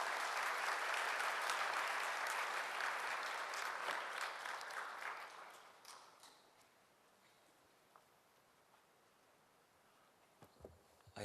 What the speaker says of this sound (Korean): 박수로 한번 맞아 주시면 좋겠습니다